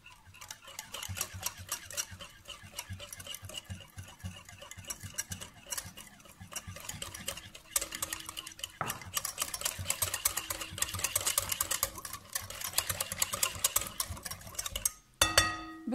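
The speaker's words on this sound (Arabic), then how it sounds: "ونخلط جميع المكونات كما تشوفوا" Biscuit dough of mixed ingredients and oil worked by hand in a bowl, with a continuous close, busy squishing and tapping texture that carries on throughout.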